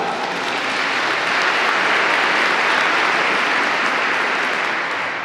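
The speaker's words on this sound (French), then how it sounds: "On l'applaudit bien chaudement." Warm audience applause fills a church during a bishop's homily, a dense, steady clapping that swells and then tapers slightly at the end, with no speech.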